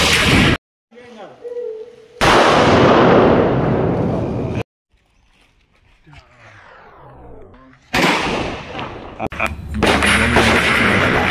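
Loud Diwali firecrackers burst in rapid, continuous volleys close by, broken by a brief quieter pause before another harsh barrage.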